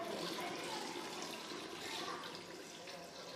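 Water pours into rice in a pot for chicken biryani, a soft continuous gush of liquid with a fainter tail as the flow eases near the end.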